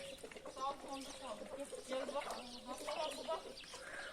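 Chickens cluck and murmur nearby in short, irregular calls, with a person speaking quietly over them.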